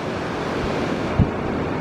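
Ocean surf rolls steadily onto a beach where surfers are out, a continuous wash of breaking waves blended with wind buffeting the microphone and one brief dull thump near the end.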